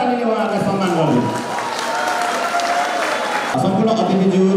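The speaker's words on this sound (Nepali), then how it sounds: "एकचोटि जोरदार तालीले उहाँहरूलाई सम्मान गरिदिनु" An audience at a college welcome programme applauds new class 11 students, a dense wash of clapping and crowd noise mixed with a loud voice over a PA, continuing steadily throughout.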